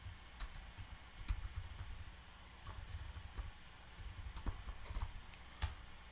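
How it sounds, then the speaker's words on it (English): A web address typed on a computer keyboard, soft scattered key clicks in short bursts, fairly quiet and close, with no speech. "we can use a custom link and just type in our whole"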